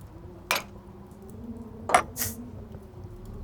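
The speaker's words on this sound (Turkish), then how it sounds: "iki bardak bir kaşık. olmadı bulaşık." Glasses and a spoon clink during dishwashing, with three separate bright chinks spread over a few seconds against a low kitchen background hum.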